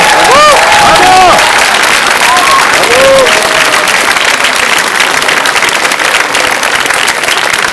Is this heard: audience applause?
yes